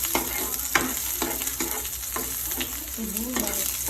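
Onion sautéing in hot oil for a corned beef dish, a steady close sizzle with repeated rhythmic spatula scrapes against the pan throughout, no one speaking.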